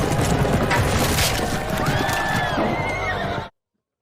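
Horses neigh and whinny loudly amid the clatter of hooves and scuffling, then everything cuts off abruptly, in a Game of Thrones scene involving the Mountain.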